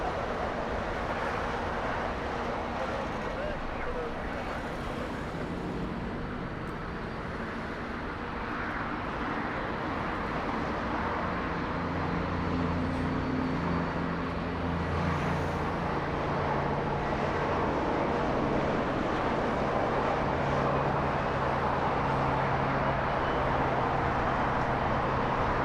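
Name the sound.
Boeing 757 with Rolls-Royce RB211 engines taxiing at LAX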